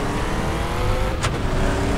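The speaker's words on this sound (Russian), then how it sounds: "Слышите, как двигатель-то работает?" A buggy's engine drones and revs in Far Cry 3, a loud, steady motor roar close by that keeps pulling as the vehicle accelerates, with one brief hissing burst midway.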